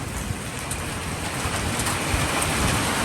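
Steady rain falls in a dense, even hiss that holds loud and continuous throughout, with faint patters and no voices.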